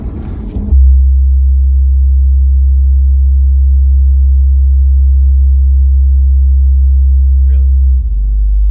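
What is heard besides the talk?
car noise-cancellation feedback tone with window cracked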